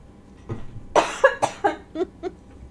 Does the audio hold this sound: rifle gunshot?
no